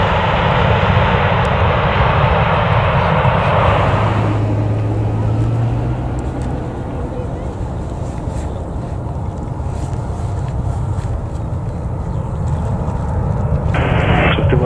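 A simulated airliner powers up for takeoff on runway 28 at Zurich in Infinite Flight, a steady loud engine roar and rumble that holds throughout, with a brief low tonal whine early on and a slight swell near the end.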